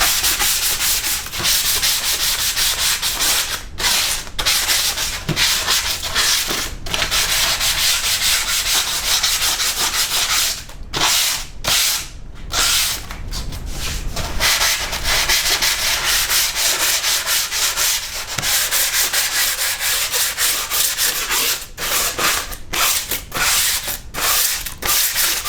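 Sandpaper rubs steadily back and forth on a small model railway part in close, loud, continuous strokes, broken by a few brief pauses, with no voices.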